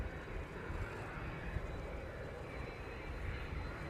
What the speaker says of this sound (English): The Ethiopian 777 now on a taxiway.